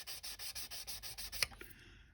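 Hand sanding of a model's surface makes a quick series of about ten rhythmic rasping strokes, close and clear, then stops, leaving a couple of faint taps and scrapes.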